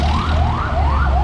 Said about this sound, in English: The ambulance coming through. Abalaka District Hospital ambulance.